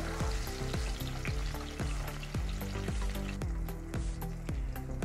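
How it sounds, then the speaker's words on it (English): Onion, chili and tomatoes fry loudly in a pan under a dense, continuous sizzle, with a steady run of regular thumping strokes about twice a second, close up and with no voices. "Now, as the onion, chili, and tomatoes begin to fry"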